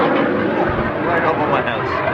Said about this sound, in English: I think they're the only aircraft that are allowed to fly over the town.